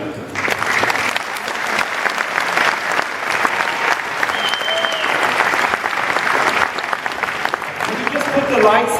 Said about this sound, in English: This applause is for all of you.